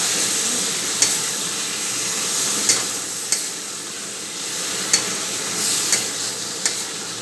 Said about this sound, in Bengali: ফজলি আম ছেড়ে দেবো, দিয়ে আরও কিছুক্ষণ ভাজবো।